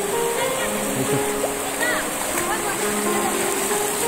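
Water rushing and splashing in a shallow forest stream as someone wades through it, a continuous gurgling wash with scattered splashes, and voices of other people faintly mixed in.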